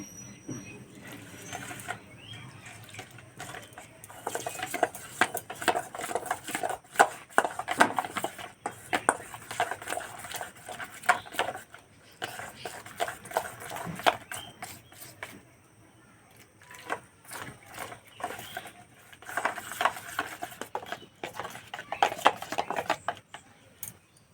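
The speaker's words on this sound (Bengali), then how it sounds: "ভালো করে মিশিয়ে নেব। অল্প অল্প জল দিয়ে গুলে নেব।" A spoon works semolina mixed with sour curd and a little water in a bowl, giving irregular scraping and clicking strokes in bursts with short pauses, fairly close and moderately loud.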